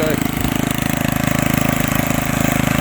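An old garden tiller engine chugs steadily while tilling loosened soil, its loud, even pulses repeating quickly and close by without pause.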